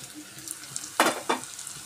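Garlic and spices such as hing, turmeric, Malvani masala and garam masala sautéing in a pan for a jackfruit curry, with a faint sizzle and two short bursts of stirring scrapes near the end, no talking.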